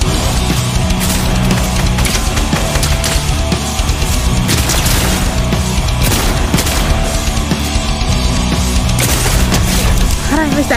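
Fortnite gunfire, with loud, dense bursts of shots and booming impacts, sits inside constant busy game sound for the whole stretch.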